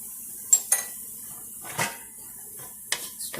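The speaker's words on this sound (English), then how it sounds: "Stir that in." Spoon clinking against a pot while salt, cayenne and black pepper are stirred into beer cheese soup, a few sharp metallic taps and scrapes spaced out over a quiet kitchen background.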